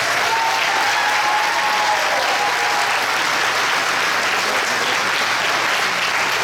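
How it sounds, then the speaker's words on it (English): An audience at a school board meeting gives students a sustained round of applause, dense steady clapping that fills the room without a break. "Please give them all another round of applause."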